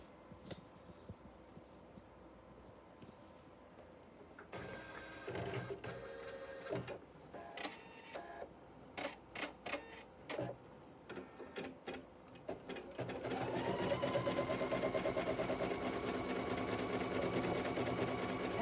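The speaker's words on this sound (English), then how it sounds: "we are going to quilt." An embroidery sewing machine quilts a flying geese block, starting with intermittent bursts of stitching and then settling into a steady, continuous whirring hum at moderate volume.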